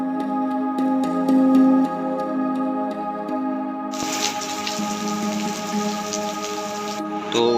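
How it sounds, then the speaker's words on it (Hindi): Heavy rain pours down at a campsite in Kund Malir, a steady dense hiss of drops with tonal hum and ticking in the first half, then a louder, brighter wash of rainfall, with no talking. "कुडमलीर में तेज़ बारिश स्टार्ट हो चुकी है।"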